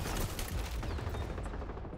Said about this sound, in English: Shot twice. Not a single bit of damage.